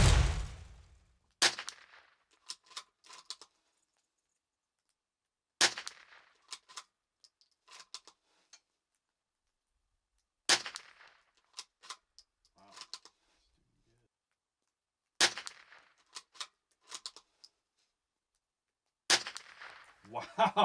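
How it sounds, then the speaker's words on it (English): Five sharp, well-spaced rimfire rifle shots from a Bergara BMR-X firing Lapua Center X ammunition at 50 yards, each crack followed by faint ticks and clinks from handling the bolt, with long quiet gaps between. "I went to shoot my first 5-shot group"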